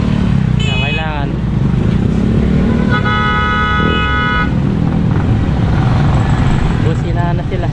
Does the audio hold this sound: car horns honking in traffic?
yes